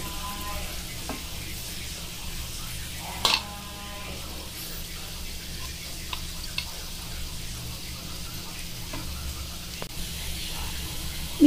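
Puran poli sizzles quietly in oil on a pan, a soft, steady frying hiss with a few faint clicks and taps from the utensil.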